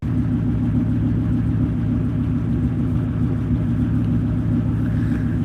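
A car engine idling on its first start-up of the year, a steady low rumble that holds even and unbroken throughout, close by and fairly loud.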